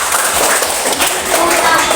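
A classroom group claps after a student's project presentation in a lesson. The clapping is dense, steady and fairly loud, with a close, busy texture throughout.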